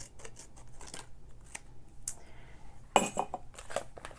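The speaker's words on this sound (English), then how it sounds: "with a pair of scissors, you can cut from this end to the other end" A pair of scissors cuts through paper for a scrapbook page: quiet, close snips and crisp slicing sounds come in an uneven series, with a few light clinks between cuts.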